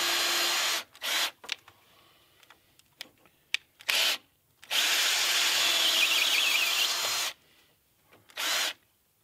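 A power drill drives lag bolts into a timber frame for a door jamb and post, running in loud whirring bursts of varying length, one long sustained run, with small knocks and handling sounds between them.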